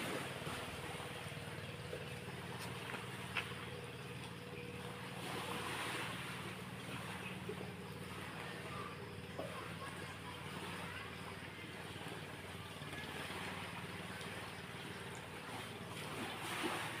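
Steady roar of sea waves at the seaside, a constant broadband wash with wind buffeting the microphone and no break across the whole stretch.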